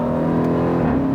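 A 2018 Jeep Trackhawk with a 707 hp supercharged engine accelerates hard, a loud, close steady exhaust roar layered with a sustained whining supercharger tone.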